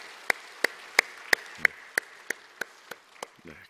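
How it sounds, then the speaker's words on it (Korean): Congregation at a special dawn prayer service clapping in unison, about eleven sharp, evenly spaced claps that gradually soften and slow, with a brief murmur at the end. "자기 칭찬해주는 우리 박수를 한번 보낼까요?"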